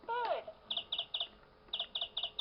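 A vintage 1990s VTech Little Smart Talk and Lights Radio toy plays an electronic bird sound: a brief synthetic swooping whistle, then a series of quick bright chirps in two clustered bursts, fairly faint and heard alone.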